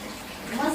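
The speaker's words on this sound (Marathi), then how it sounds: "पाण्याचं चालू करून देतो." Water pours steadily from a household tap to fill a bath, a brief close hiss of running water.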